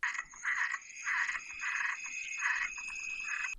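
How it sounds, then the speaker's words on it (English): Frogs croak in a marsh in repeated pulsing bursts, a chorus of rasping calls rising and falling at a moderate distance with no voices. "Then some frogs began to croak in the marsh."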